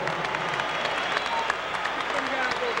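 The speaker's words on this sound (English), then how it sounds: "Let's have a round of applause for these two heavyweights." A crowd applauds two heavyweight boxers after a 12-round fight in an Atlantic City casino arena, a steady wash of clapping and crowd noise beneath an announcer talking.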